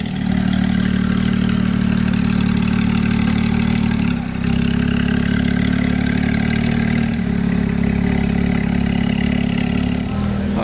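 Porsche GT3 with a non-original aftermarket exhaust idling nearby: a steady, loud, deep rumble with a slight dip and blip partway through, over faint street background.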